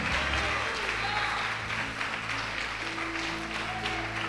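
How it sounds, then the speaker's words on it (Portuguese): A church congregation applauds during a Portuguese-language worship service, a steady broadband wash of clapping running throughout, mixed with a continuous hum and held tones as voices carry beneath it. "Você pode aplaudir o Senhor, você pode glorificar a Deus."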